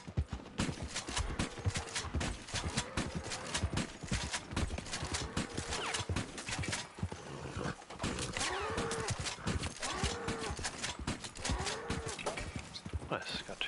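Elk in the Red Dead Online video game, heard as repeated hoof clip-clops and thudding steps with a few high calls, fairly close and continuous, while a voice talks intermittently over it.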